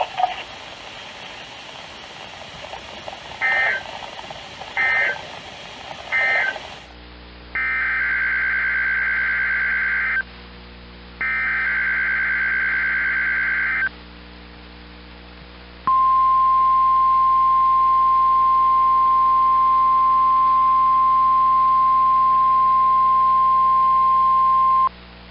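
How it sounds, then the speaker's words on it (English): A NOAA weather radio alarm test from the National Weather Service in Boulder: three short data bursts, two long warbling tones with a gap, then a sustained loud steady alarm tone lasting about ten seconds, no voices. "The preceding signal was a test of the NOAA All Hazards Radio Public Warning System."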